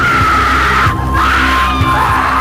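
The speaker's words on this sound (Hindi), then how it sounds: "इसमें से इतनी आवाजें आती हैं, शोर की आवाजें, चीखों की आवाजें" A horror-show scream sound effect rings out as one loud, sustained, piercing wail, holding steady for over two seconds with a brief dip near the middle.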